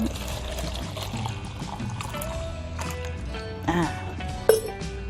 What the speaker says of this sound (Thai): เทลงไปเลยค่ะ ตามด้วยน้ำ